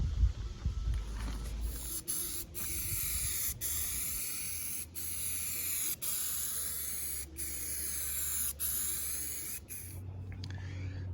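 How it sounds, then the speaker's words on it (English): A spray gun coats the fiberglass body of a Smokey and the Bandit tribute truck, giving a loud, steady hiss in repeated passes broken by brief pauses, with no talking. "We'll spray this on there and let that harden and see how smooth it gets."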